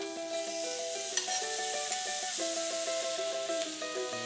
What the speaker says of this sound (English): Putting it into the pan, away from me, so I get some nice sizzle.